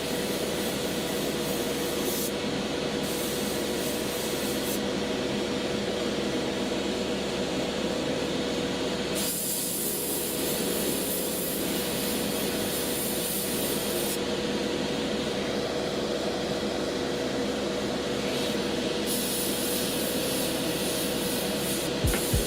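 Airbrush spraying paint through a fine needle and narrow passage, a continuous soft airy hiss that runs the whole time, briefly shifting in tone as the trigger is worked.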